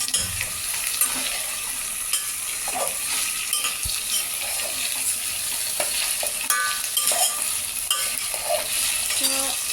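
Garlic paste sizzles steadily in hot oil while being stirred, a dense continuous frying hiss with occasional scraping and spoon taps against the pan, close and alone.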